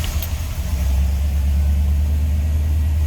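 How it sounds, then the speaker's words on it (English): A 1967 Chevrolet C10 pickup truck's engine runs steadily at a low, rumbling idle, loud and close, with a constant deep drone and no speech. "Let's go ahead and start it up so you can hear this one run."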